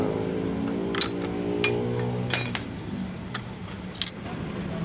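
A Yamaha RX King motorcycle engine with a knocking fault idles quietly, a low hum broken by irregular sharp metallic ticks and clinks spaced about a second apart.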